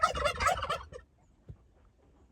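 A broody hen in a snowstorm lets out a quick burst of throaty, gobbling clucks up close, then falls to near silence with a couple of faint soft thumps.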